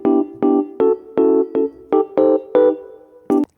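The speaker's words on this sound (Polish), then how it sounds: "Głównym instrumentem jest tutaj pianino elektryczne, które brzmi tak." Electric piano playing a short sequence of about nine mellow, bell-like chords, evenly spaced and clear, with no talking.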